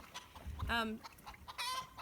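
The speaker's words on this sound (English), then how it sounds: "that chicken just laid an egg." A backyard homestead hen clucks loudly and repeatedly after laying an egg, bursts of squawking cackles close by in a quiet outdoor setting.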